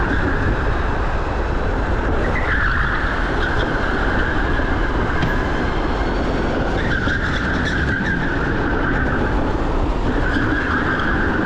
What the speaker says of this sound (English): But I ruined that idea with a rather large slide.